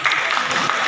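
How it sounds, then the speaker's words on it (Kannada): Students clap together in a brief, dense burst of applause, a crowd of overlapping hand claps heard close and steady. "ನೀವು ಹೊಡಿಬೇಕು ಚಪ್ಪಾಳೆ"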